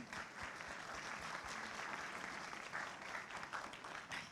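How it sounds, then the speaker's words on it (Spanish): Audience applause at a United Nations Orange Campaign event against violence toward women, a steady, fairly distant wash of many hands clapping, quiet overall and continuous without talk. "Pedimos un aplauso."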